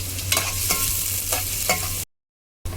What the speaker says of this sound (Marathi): त्यात आपण हा बारीक केलेला कांदा घालू आणि कांदा आपण व्यवस्थित परतून घेऊ